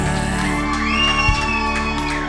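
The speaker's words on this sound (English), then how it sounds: "let's give them a rousing round of applause" Wedding guests cheer and whoop, the shouts forming a dense crowd roar that holds steady from start to finish, with music running underneath.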